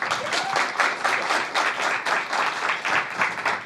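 An audience at a French television broadcast claps steadily and warmly to welcome guests onto the set, a dense, even wash of applause throughout.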